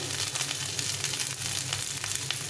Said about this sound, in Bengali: চলো ভেজে নিই ফুলকপিটা।